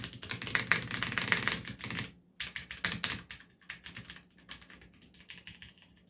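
Spacebar and key presses on a Cherry MX Board 3.0S mechanical keyboard with black switches and a wire stabilizer. Close, sharp clicks come in quick uneven bursts, with short gaps between clusters and softer taps toward the end.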